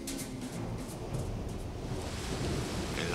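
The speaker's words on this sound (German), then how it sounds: "Draußen entlud sich ein Gewitter" Steady rain falling through a thunderstorm, with low rumbling thunder rolling underneath and a few sharper cracks, a continuous dense wash of sound with no voices.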